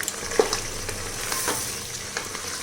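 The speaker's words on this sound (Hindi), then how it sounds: "इसको भी भून लेते हैं, लहसुन अदरक के कच्चापन चला जाए।" Garlic-ginger paste sizzles and spatters in hot oil, with faint scraping stirs over a steady frying hiss.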